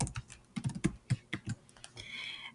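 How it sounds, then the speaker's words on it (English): Quick, irregular clicking of keys on a computer keyboard as a short note is typed in a Google Docs document, close and fairly quiet, with no talking. "I can type a little note."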